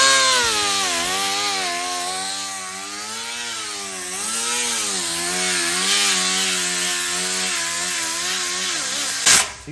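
An aluminum sheet for a COE truck bed being cut with a power saw, lubricated with WD-40. It gives a loud, steady, whining cut for about nine seconds, the pitch dipping and rising as it goes, then stops abruptly.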